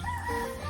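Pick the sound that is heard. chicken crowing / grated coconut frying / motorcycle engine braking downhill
chicken crowing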